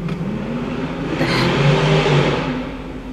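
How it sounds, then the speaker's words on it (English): A fast car's engine revs up in a rising whine that swells loudly mid-way, then eases back to a steady drone. "My brother has like a really fast car like that."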